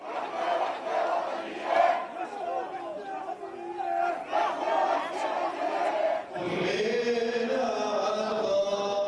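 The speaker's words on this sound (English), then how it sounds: "Crowds filling the small streets of this ancient city." Large crowd chanting and shouting in the narrow streets of an ancient city's Christian quarter during a funeral procession, rhythmic massed voices close and loud, building into denser overlapping chants near the end.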